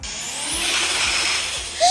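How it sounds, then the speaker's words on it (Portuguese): A car engine roars in a short, loud burst, rising in intensity and then easing off. "ele tá fazendo um barulho de motor japonês"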